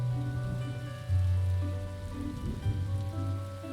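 Rain falling on a rooftop in The Darkside Detective video game, a steady patter over sustained low musical drones from the game's soundtrack, with no voices.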